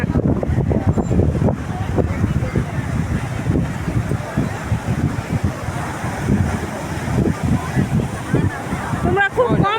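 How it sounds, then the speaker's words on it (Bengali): Night sea waves wash onto the shore under strong wind, a steady, loud roar with wind buffeting the microphone throughout, and voices occasionally mixed in. "রাত্রের সমুদ্র গাইস, এর থেকে অপূর্ব জিনিস আর হয় না।"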